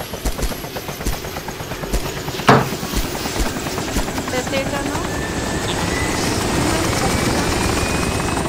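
A helicopter in the DayZ Origins video game keeps up a steady, loud rotor thrum throughout, with a sharp report partway in and players talking over it.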